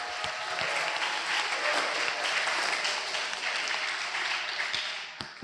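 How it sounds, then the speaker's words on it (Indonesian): A crowd of Islamic boarding school students in a hall breaks into sustained applause, a dense, even roar of clapping lasting several seconds before tapering off. "Tepuk tangan dulu dong."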